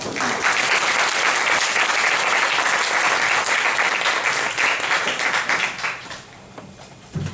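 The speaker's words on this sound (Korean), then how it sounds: "나오실 때 환영의 박수를 부탁드립니다" Welcoming applause for a pastor at a church worship service, loud continuous clapping from the congregation that thins out and fades near the end, followed by a short final burst.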